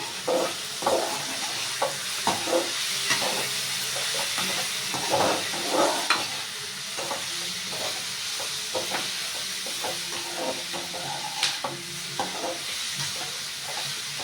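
Fried rice ingredients sauté in a hot pan, giving a continuous loud sizzle with repeated spatula scrapes and stirring strokes throughout.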